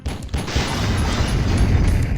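Weapon fire from The Fifth Element PS1 video game (1998), a dense, continuous rumble of booming shots and blasts, loud and sustained without pause and with no voices over it.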